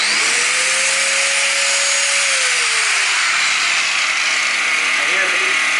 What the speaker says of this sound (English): And here's the angle grinder